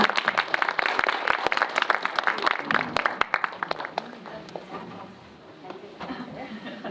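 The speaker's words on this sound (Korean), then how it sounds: "큰 박수로 많이 부탁드립니다" Audience applause at a Korean film screening and talk event, many sharp claps, loud at first and then thinning out and fading, with voices murmuring underneath.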